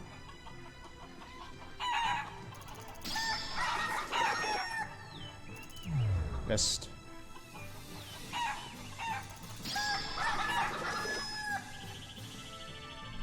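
Chickens in the video game Shenmue 3 cluck and squawk repeatedly in loud, clustered bursts over busy minigame sounds and music, with a thump in the middle and a brief spoken word.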